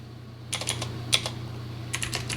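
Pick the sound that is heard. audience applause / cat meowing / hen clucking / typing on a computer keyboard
typing on a computer keyboard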